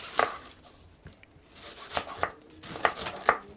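Onions being chopped with a knife on a board, a few sharp, close knocks spaced irregularly over a quiet background, with clusters of two or three quick cuts toward the end.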